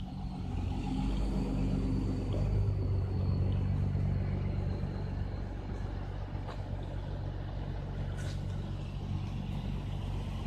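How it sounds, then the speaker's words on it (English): A wrecker tow truck pulls a car along a road, heard as a continuous low engine rumble with a steady drone and a brief high hiss or squeal partway through, moderately close and with no talking. "But this wrecker is definitely towing this car."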